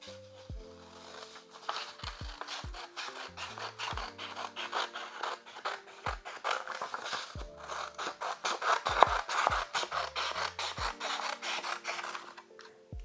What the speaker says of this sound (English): Then cut away the excess where the scissors are marked.